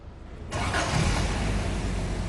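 Chevrolet 3100 pickup engine cranking and catching after a half-second pause, then running steadily with a loud, rough, full-bodied idle, close by.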